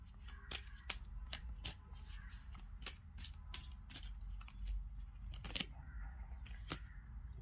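Tarot cards being shuffled at close range, a steady papery rustle broken by repeated sharp flicks and snaps of the deck, heard alone without any talking.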